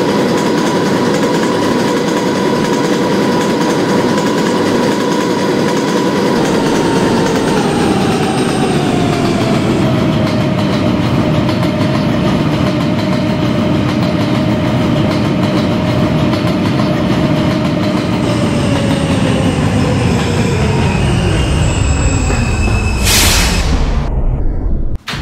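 An R160 subway car on a westbound K train rolls along the tracks, a steady loud roar of wheels and motors with a falling whine as it slows, ending in a brief squeal near the close.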